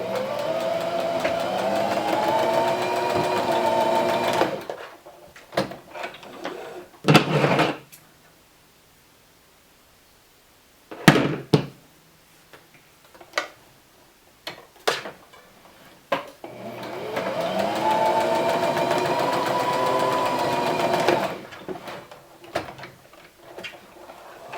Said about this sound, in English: now I'm just going to stick this in the sewing machine